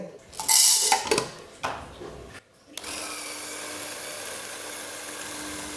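Electric coffee grinder whirring steadily as it grinds 18 grams of coffee beans, a constant close buzz that follows a few clattering knocks and short bursts.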